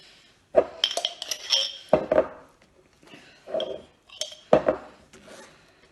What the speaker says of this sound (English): So get your little knife and just put a little bit of jam on.